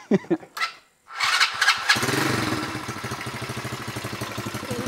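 A car engine cranks briefly, fires and catches, then settles into a steady, throbbing idle close by, with no talking over it.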